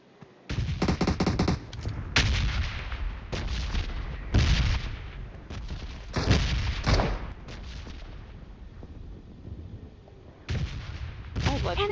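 Gunfire in a shooter video game comes as repeated loud bursts and booming shots in irregular clusters, with brief gaps between volleys.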